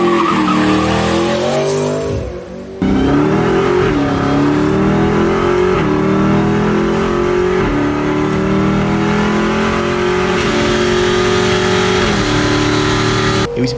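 Supercharged Dodge Hellcat muscle car with over 700 horsepower, revving hard and repeatedly through rising engine pulls with a brief gap, tires squealing and a whining supercharger, loud and close throughout.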